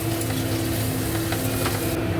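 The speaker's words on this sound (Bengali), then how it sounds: "কড়াইতে আর একটু সাদা তেল দিয়ে আমি এখানে রসুন আর একটু কাঁচা লঙ্কা কুচি দিয়ে ভেজে নেব।" Garlic and chopped green chili fry in white oil in a wok, a steady close sizzle with soft stirring scrapes throughout and no talk.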